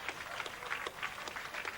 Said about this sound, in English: let's give her another rousing round of applause